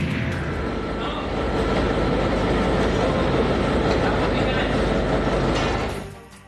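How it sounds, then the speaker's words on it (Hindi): A Karachi Circular Railway local train in Karachi, Pakistan, rumbles past with a loud, steady roar and faint wheel clatter, then fades sharply at the end. "कराची कैंट और पिपरी से चलने वाली दोनों ट्रेनें मंजिल पर पहुंच गईं।"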